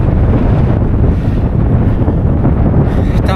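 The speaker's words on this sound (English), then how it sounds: "We have north wind" North wind blusters straight into the microphone on a day of travel crossing into Canada, making a loud, constant low roar that never lets up.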